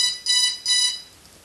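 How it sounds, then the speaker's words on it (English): Battery alarm on a broken DJI Phantom 2 drone: three short, shrill electronic beeps in quick succession, close and clear, with no talking. "As soon as you put the battery in, it alarms like this."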